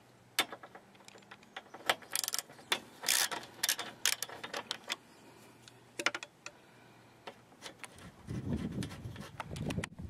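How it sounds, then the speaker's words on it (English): Ratchet loosening 10mm bolts on the top cooling fan of a 1999-2002 Honda Accord V6, heard as close, irregular clusters of sharp metallic ticks and clicks with brief pauses. "Remove these two 10mm bolts on the top fan, on the top of this fan right here."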